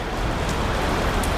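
Heavy rain falls on open farm fields in windy weather, a dense and unbroken close-up hiss of drops with no voices.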